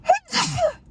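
A single close sneeze, a quick sharp intake of breath followed by a breathy burst, in a quiet indoor podcast setting.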